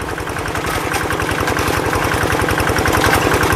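Old paddy-field tractor with its exhaust fitted without a CJDW silencer, its engine hammering out a steady, rapid pulsing beat that builds slightly louder, close and continuous with no talk.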